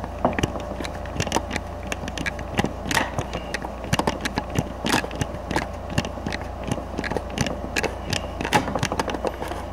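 Hand tool fastening bolts on an RF 1000 commercial door knob, with steady close clicking and ticking over a constant low hum, no talking.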